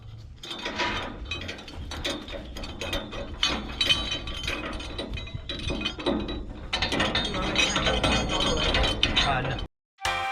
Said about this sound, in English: put the bolts nuts on the bottom and tighten it down.